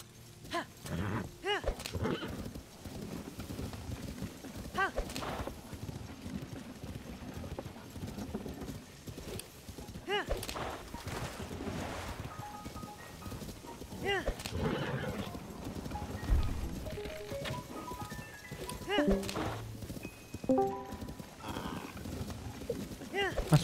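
Horse hooves clip-clop steadily while a horse whinnies now and then in The Legend of Zelda: Tears of the Kingdom, with the horse wearing a harness; someone talks in German over the game sounds throughout.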